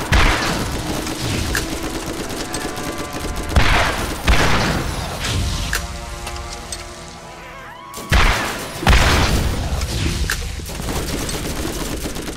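Gunfire in Borderlands during a two-player co-op fight against General Knoxx: loud, repeated bursts of shots and impacts that come in clustered volleys with brief lulls between them, sounding close and dense.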